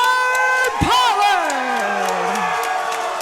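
A crowd at an MMA fight night cheers and whoops for debuting fighter Dustin Pollard, loud sustained yelling with a prominent rising and falling voice over the roar.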